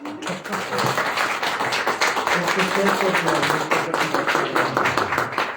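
Loud audience applause at an academic lecture, dense clapping building and holding steady for several seconds with some voices mixed in.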